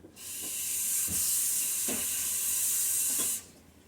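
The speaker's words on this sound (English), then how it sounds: "love those little pump spray bottles of dish soap for washing hands" A pump spray bottle of dish soap gives a steady hissing spray for about three seconds, with a few faint soft taps underneath, then stops abruptly.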